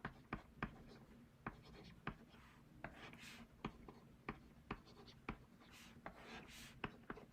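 A pencil writes out a maths equation on paper, giving a quiet, close scratching with a dozen or so sharp taps and strokes in a quick, irregular rhythm, no voices.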